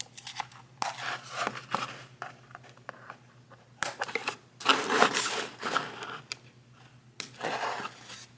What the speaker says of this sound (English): And now let's cut Bonecrusher loose from the card here.